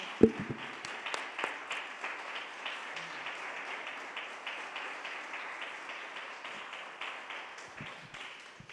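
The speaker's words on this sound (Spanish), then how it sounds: "dale un aplauso, sí, al Señor" Church congregation applauding during a sermon, a fairly quiet, even patter of many hands heard at a distance, opening with a few sharper claps and then a steady wash that slowly thins out.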